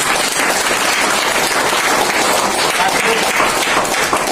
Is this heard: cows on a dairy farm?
no